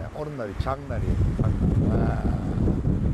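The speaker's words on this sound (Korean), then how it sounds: "바람소리 들리시죠?" Strong coastal wind buffets the microphone in a steady roar while someone talks over it outdoors, with rough seas nearby.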